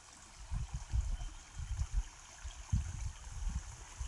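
Water flowing through a field channel, a soft close gurgle with low irregular burbling pulses under a faint steady hiss, no talking.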